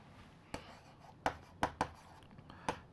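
Chalk or pen tapping and scratching out equations on a board during a structural engineering lesson, with a handful of sharp, close strokes spaced irregularly over quiet room tone.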